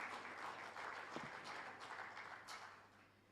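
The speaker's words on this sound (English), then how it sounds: "Round of applause again" A steady round of applause at an education and training gathering, even clapping sustained for about three seconds before tapering off, faint and without talk.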